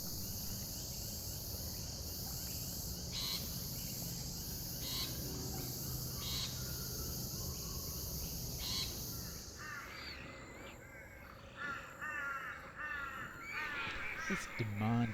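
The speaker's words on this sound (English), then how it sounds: "See if you can hear the little tusked frog plunking behind the cacophony of cicadas." Cicadas chorus in a wetland catchment, a steady high buzzing wall that drops away partway through, while a small tusked frog gives soft plunking calls somewhere behind it.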